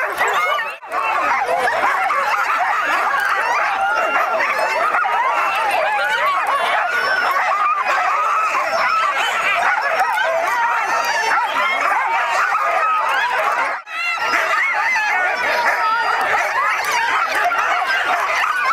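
Sled dogs at the start of the Quest 300 race bark and yip in a dense, continuous chorus, loud and close, with excited whimpers running through it and only two brief dips.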